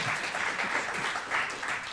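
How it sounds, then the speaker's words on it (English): An audience at a talk on Philadelphia civic corruption applauds, a steady, moderately loud wash of clapping that holds evenly throughout with no speech. "Round of applause for that."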